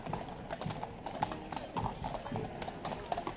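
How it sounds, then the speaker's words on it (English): Police horse's hooves clip-clopping on hard pavement, a quick uneven run of close hoofbeats alongside other troop horses, with some voices and background bustle. "That horse is actually not wanting to stay with the others"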